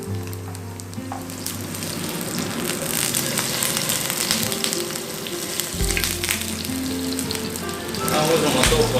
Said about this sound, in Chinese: 我们先把板豆腐整块每一面先煎到金黄色